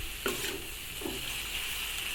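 Onions frying in a pan for mutton kala bhuna give a steady sizzle, broken by a couple of brief scraping stirs from a spoon. The sound is close, with no one talking.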